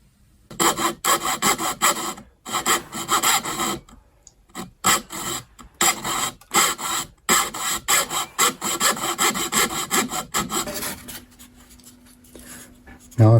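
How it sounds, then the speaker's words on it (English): A hand saw cutting a dove shape out of wood for a parlour guitar build: a close, rhythmic rasp of repeated saw strokes, briefly pausing between bursts, with no talk. "Now I've got the main outline of the dove sawn out."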